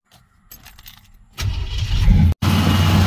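A 1990 Chevrolet Caprice engine cranks briefly and catches, settling into a loud, close running roar after a short starter whir, with a quick dropout near the end.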